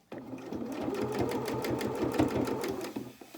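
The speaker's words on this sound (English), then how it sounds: "Just sewing about an inch at a time and then stopping" A sewing machine stitches lace and ribbon onto a small doll's dress in one steady, close burst of rapid rhythmic needle strokes lasting about three seconds before stopping.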